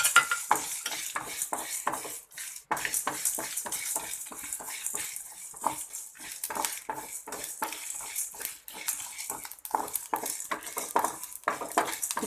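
Spices and curry leaves rustle and scrape in a dry pan as a spoon stirs them in quick, repeated strokes, with a faint crackle of roasting underneath.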